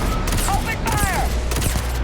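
A burst of rapid gunfire with sci-fi weapon whines and zips in the space game Starfield, dense and continuous, with rising and falling tonal sweeps in the mix.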